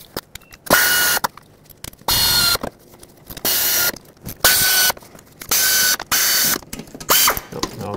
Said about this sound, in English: I already have a short socket on my air ratchet